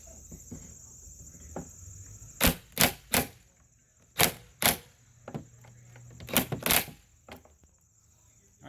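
A 12mm socket wrench loosens the liftgate support strut bolts on a 2003–2009 Toyota 4Runner, giving several sharp metallic clicks in pairs and threes close by, over a steady high background hum.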